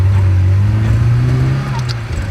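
Chevrolet LUV pickup truck engine pulling hard and shifting gears, a loud steady low drone close by that drops slightly near the end.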